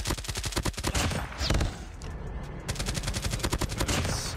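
Rapid automatic gunfire from a CoD Mobile match rattles in dense bursts, a long volley, a short break, then more sustained shooting, loud and close.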